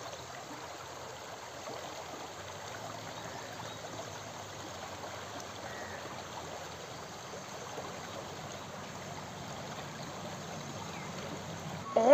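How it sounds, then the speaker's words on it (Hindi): A forest stream runs fast and swollen after rain, giving a continuous, even rush of water at moderate distance with no talking over it. "पानी भी काफी तेज बहाव से आ रहा है"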